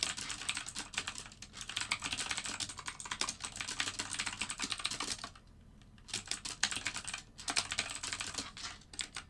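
Rapid typing on a computer keyboard during a live trading session, with a steady stream of close, clattering keystrokes that pauses briefly partway through and then resumes.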